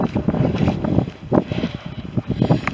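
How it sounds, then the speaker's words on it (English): Wind gusts thump and rumble against the microphone in uneven bursts, moderately loud with brief lulls between. "It suddenly got very, very windy, everyone."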